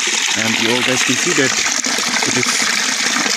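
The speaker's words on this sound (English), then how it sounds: "it is the drainage water" Dirty drainage water carrying waste from boys' hostel toilets rushes steadily downhill, a loud continuous gush that runs throughout while someone talks over it.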